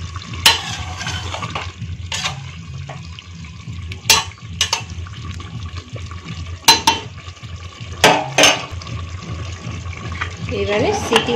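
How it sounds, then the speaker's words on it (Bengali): Water is poured into a pressure cooker of mixed vegetable curry, splashing and sizzling briefly against the hot vegetables amid stirring clatter, with a voice speaking over it. "সামান্য একটু জল দেবো এইবার।"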